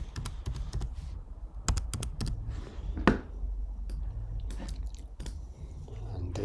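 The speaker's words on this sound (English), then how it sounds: "Let's type that in." Computer keyboard being typed on to enter a password, a close series of irregular tapping keystrokes in short clusters, with a sharper clack partway through and no talking.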